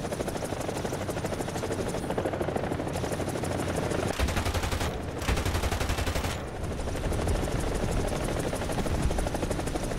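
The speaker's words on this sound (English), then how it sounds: "did I hear an enemy helicopter coming in?" A steady, loud helicopter rotor drone in a VR video game fills the whole stretch, with dense rattling bursts like gunfire layered over it.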